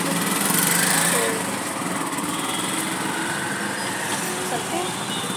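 A green auto-rickshaw's small engine runs in a steady, high-pitched drone, loud and close, with continuous traffic noise around it.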